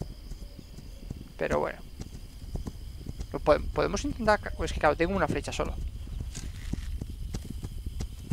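Horse hooves clip-clopping across the ground in the survival video game This Land Is My Land, a soft rhythmic patter beneath someone talking in Spanish over game ambience.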